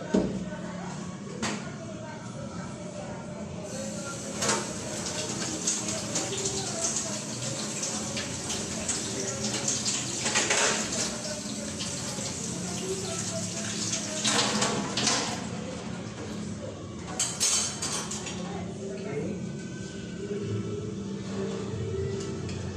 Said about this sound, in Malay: Sekarang saya nak basuh tangan sekejap.